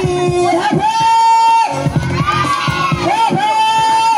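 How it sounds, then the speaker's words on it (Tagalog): Party crowd at a birthday celebration for a girl, children and adults cheering, whooping and shouting loudly together with clapping, in close, bursting waves of excited voices. "Palakpakan niyo lahat na may kasamang hiyawan."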